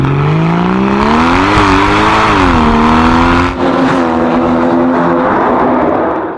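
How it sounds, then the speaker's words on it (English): A Porsche Cayman S sports exhaust revs loudly and continuously, its note rising and falling in pitch as the car accelerates, close and dominant. "all to that glorious sports exhaust soundtrack"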